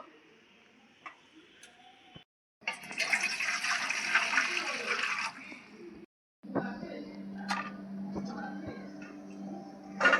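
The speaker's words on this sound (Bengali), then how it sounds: "তা আমগুলো এখন আমি ভালো করে ধুয়ে নেবো" Ripe tree-ripened Himsagar mangoes are washed in water, giving steady splashing and sloshing that runs through most of the stretch, broken by short pauses and fairly close.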